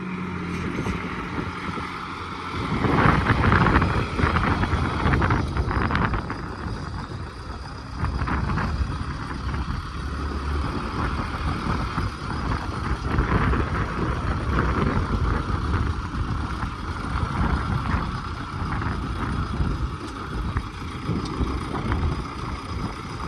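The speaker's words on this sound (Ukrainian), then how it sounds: "Двома тракторами, звісно, легше." Two MTZ 892 tractors hauling manure with a PRT-7 spreader give a continuous loud engine drone with wind buffeting the microphone, and the rumble swells and rattles throughout.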